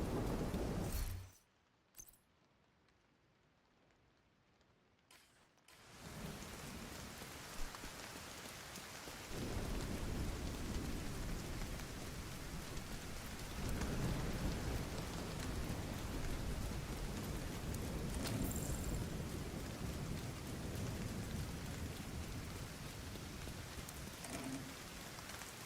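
Rain falling in the survival video game SCUM, a dense hiss of rain on surfaces with rumbling thunder, continuous and loud after a brief quiet gap near the start, with no one talking.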